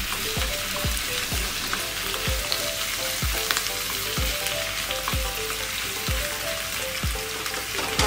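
Chicken sautés in a pan with a steady, loud sizzle, broken by regular low knocks of a utensil stirring against the pan, close up and with no one talking.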